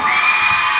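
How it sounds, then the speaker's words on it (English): Crowd at a professional wrestling show, Chaotic Wrestling Summer Chaos 2009, in a loud, sustained roar of cheering and yelling, with no gap in the noise. "Listen to this crowd."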